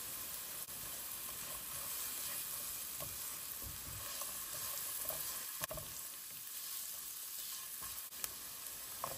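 Chopped garlic with turmeric fries in a pan, giving a steady, continuous sizzle with occasional faint clicks of stirring, fairly close and even in level throughout, with no voices.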